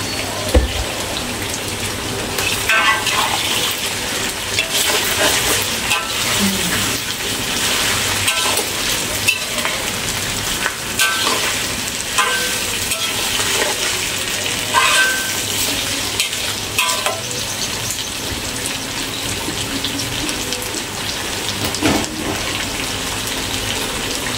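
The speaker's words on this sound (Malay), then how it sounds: "Sambil kita taruh kicap, kita menggodak sambal sebelah ni" Sambal stirred in a pan as soy sauce is poured in, a steady sizzle and frying hiss with scraping and stirring clatter running throughout, fairly close and continuous.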